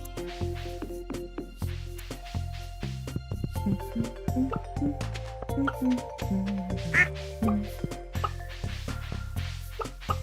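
Ducks in the farming video game Stardew Valley Expanded quack in a rapid series of short, clear calls, layered over light game music and chimes.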